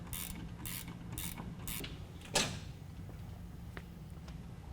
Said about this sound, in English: now we're using a 14 millimeter to undo the nut on the top of the shock